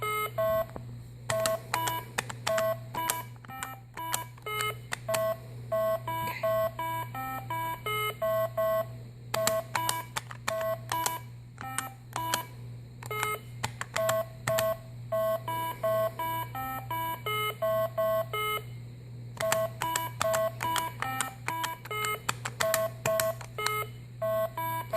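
A Carabiner Simon electronic game toy plays rapid sequences of bright pitched beeps over a steady low hum, in bursts separated by short pauses, the tones coming faster as play goes on.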